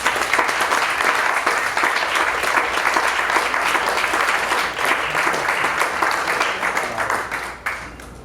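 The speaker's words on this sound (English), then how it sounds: "So please, a round of applause." Thick, continuous applause from a tribute event audience fills the room at steady loudness, tapering slightly near the end.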